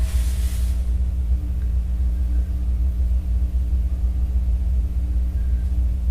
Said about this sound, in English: I'm gonna turn on my wheel.